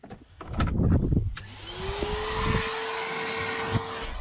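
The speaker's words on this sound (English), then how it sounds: "I move on to the interior and do the vacuum." A vacuum cleaner works over the thick, plush carpets of a Rolls Royce interior: some clatter at first, then the motor spins up into a steady, close whine.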